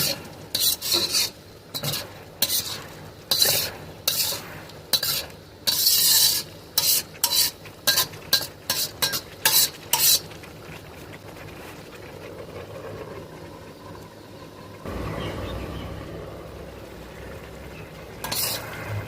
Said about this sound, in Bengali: এটা দিয়ে নাড়াচাড়া করে আমাদের ঢাকা দিয়ে দিয়ে মাংসটাকে কষিয়ে নিতে হবে